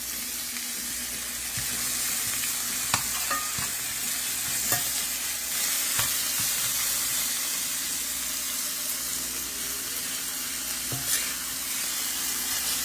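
Dasheen bush leaves frying in a pot, giving a steady moderate sizzle with occasional stirring clicks and scrapes scattered throughout, close and without voices.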